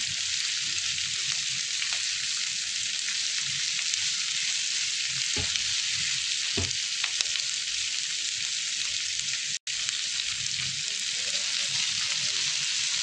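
Onion, capsicum and carrot fry in a pan for paneer chilli, giving a steady close sizzle with a few soft stirring knocks and no talk.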